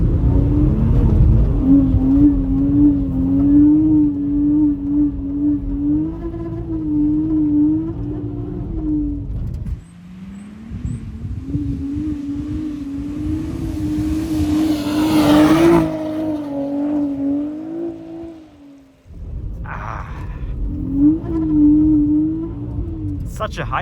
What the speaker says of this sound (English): Such a high-pitched sound that this car makes.